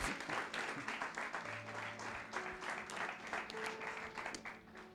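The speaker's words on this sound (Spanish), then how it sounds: "Denle un aplauso de nada." Audience applause at a Spanish-language church sermon, a steady wash of clapping filling the room with a few brief tonal sounds mixed in, moderately loud and sustained.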